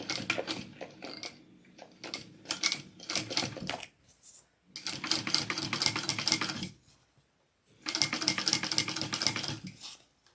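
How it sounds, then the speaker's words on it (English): A sewing machine back stitching a mini backpack, running in three close, loud bursts of rapid mechanical chatter separated by short pauses. "So I'm going to stop and back stitch."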